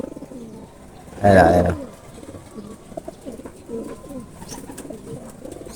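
Racing pigeons coo in a loud close burst, followed by softer scattered coos and flutters, with someone talking over them.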